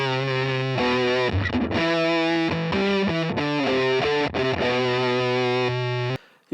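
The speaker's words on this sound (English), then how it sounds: "You'll hear a lot of Big Muff and a lot of fuzz." Electric guitar run through a Big Muff fuzz pedal, thick and heavily distorted with sustained chords and notes played continuously and loud until an abrupt stop near the end.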